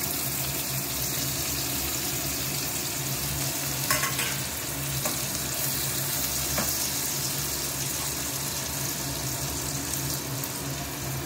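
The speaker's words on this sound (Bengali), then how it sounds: "এবার আমি তেলের মধ্যে রসুনগুলোকে দিয়ে দিলাম প্রথমে, তারপর রসুনের পরে আমি পেঁয়াজটাকেও দিয়ে নেব" Garlic, onion, carrot, cauliflower and capsicum fry in oil for restaurant-style mixed fried rice, producing a loud, even, continuous sizzle with an occasional faint clink, heard alone without voices.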